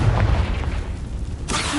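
A Confringo spell explosion in the Hogwarts Legacy video game: a loud, broad booming rumble that fades, then a second burst near the end, with no talk.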